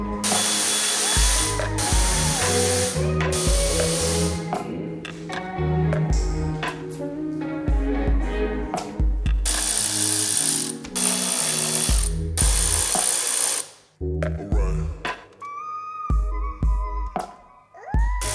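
Ratchet removing 10mm bolts from the engine cover of a BMW F30 340i, with bursts of fast close clicking broken by brief pauses and handling noises.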